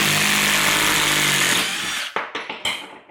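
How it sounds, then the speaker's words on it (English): An impact driver backing long screws out of wood, a loud, steady high whir that gives way to a few sharp, rapid hammering bursts near the end, close up with no talking. "Now with the impact driver,"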